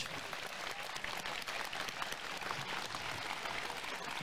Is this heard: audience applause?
yes